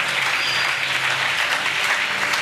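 A church congregation applauds during a service, a dense, even wash of many hands clapping together, loud and sustained from start to finish.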